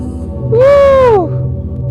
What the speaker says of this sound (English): So basically when I have the chords and the vocals, put them together, it sounds like this.